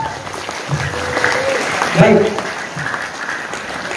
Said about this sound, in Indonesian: Tepuk tangan dulu pada kita semua.